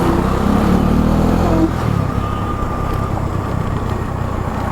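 A motorcycle rides a downhill mountain road in Uttarakhand, a close, steady, loud engine drone with a faint rising tone early on and continuous road and wind noise throughout.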